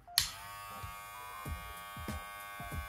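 A VGR V-680 cordless hair clipper switches on with a sharp click and runs at full power, a close, steady, strong electric buzz with a bright harmonic whine and a few faint handling knocks, no talking.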